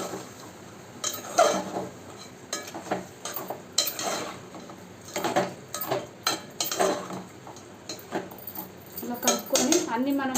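Chicken with salt, turmeric, chilli powder and cumin powder being stirred in a pot, with repeated scraping and clinking of a utensil against the metal in irregular bursts, close and fairly loud.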